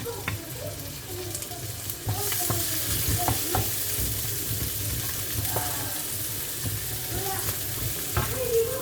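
Onions and peppers sizzle steadily in a hot pan while taco filling is prepared, a continuous close frying hiss broken by occasional clicks and scrapes of stirring.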